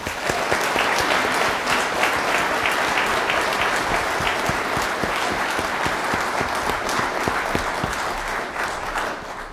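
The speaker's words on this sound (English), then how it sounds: "Please let us give a round of applause to Dr. Jerome E. Jackson." A full audience applauds Dr. Jerome E. Jackson at an evening event, a dense, loud wash of clapping sustained steadily for the whole stretch and easing only slightly at the end.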